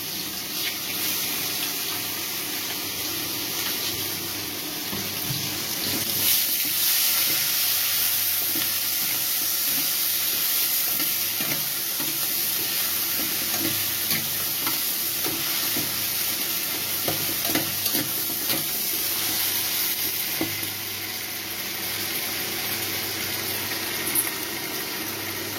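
Chicken skin sizzles steadily in hot oil for a curry, a continuous crackling fry with occasional stirring and scraping in the pan.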